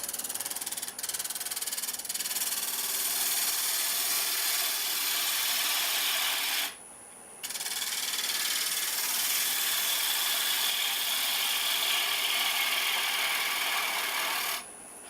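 Wood lathe gouge making a small cut on a turned wooden cowboy hat, a continuous close hissing scrape that breaks off briefly for a moment, then resumes, with no talk.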